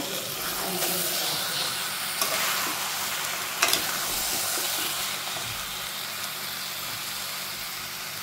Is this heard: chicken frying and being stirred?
yes